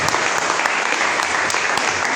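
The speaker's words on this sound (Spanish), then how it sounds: "Denle un aplauso al joven, amén." A church congregation at a Spanish-language service claps in a dense, loud, continuous burst of applause, close and even throughout, with no voice over it.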